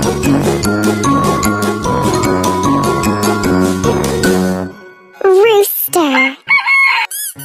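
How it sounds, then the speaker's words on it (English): A rooster crows loudly and close, a long cock-a-doodle-doo call standing alone after a stretch of background music. "Rooster."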